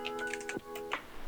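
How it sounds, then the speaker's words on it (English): Rapid keystrokes clatter on a computer keyboard as code for a Discord bot is entered, a close, quick burst of clicks with a brief pause midway and no talking. "I'm going to start by typing const discord."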